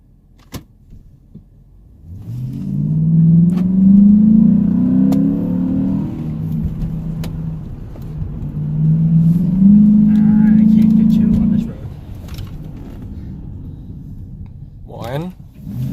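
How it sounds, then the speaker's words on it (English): 2008 Hemi Jeep Commander 4x4 being driven to break in newly replaced brakes: two loud surges of engine acceleration, each building and then easing off, with a quieter lull between them and a soft fade at the end. "we're going to go ahead and try and break in his brakes"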